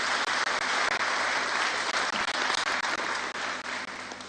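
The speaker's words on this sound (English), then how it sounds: "kindly just give them a round of applause" An audience gives a loud round of applause, dense continuous clapping at close range with a few brief dips, and no one speaking over it.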